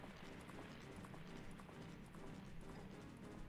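Epona, the horse in the video game Zelda: Majora's Mask, gallops with quick repeating hoof clip-clops that come through faint and steady from start to end.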